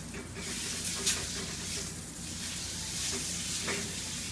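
Chicken skin searing in a hot pan, a steady soft sizzle and hiss of frying with a few brief crackles and spatters, close and moderately quiet.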